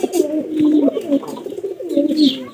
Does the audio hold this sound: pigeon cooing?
yes